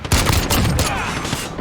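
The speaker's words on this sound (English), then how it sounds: "hey, I got a shotgun. Shotgun." A shotgun fires in a video game, a loud booming blast with a ringing tail, followed by more thumping shots close by.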